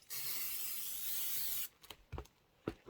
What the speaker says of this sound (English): I'm going to give it one more shot of spray